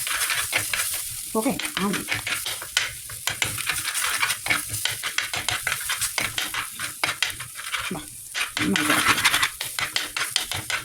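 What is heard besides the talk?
stirring fish curry with kudampuli water in pan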